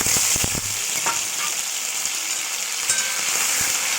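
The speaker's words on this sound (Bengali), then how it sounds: "এবার আমি পেঁয়াজ কুচিটা দিয়ে দিচ্ছি এর মধ্যে।" Chopped onions fry in white oil for an egg curry, giving a dense, continuous sizzle with a few clinks of a spoon against the pan near the start, loud and close.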